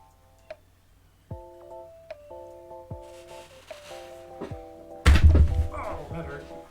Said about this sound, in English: Banging your knee on your desk.